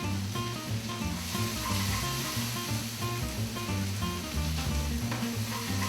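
Softened onions sizzle steadily in a frying pan, a dense, even crackle and hiss that carries through at moderate volume with no voices.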